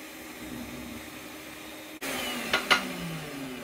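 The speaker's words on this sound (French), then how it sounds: "on va faire un fraisage sur le côté extérieur du manche pour faire rentrer la tête de vis" A power drill with a countersink bit cuts into the outside of a wooden handle for a screw head; a steady motor whine jumps louder midway as the bit bites, with brief grinding surges.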